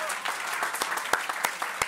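An audience at a Campus Party web launch breaks into applause, scattered sharp claps with a few louder individual hits, while voices can be heard talking and cheering over it.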